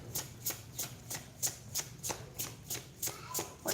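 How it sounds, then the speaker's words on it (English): Tarot cards are shuffled close up in a rapid, regular run of about a dozen crisp riffling bursts, with no talking. "I like to shuffle on camera"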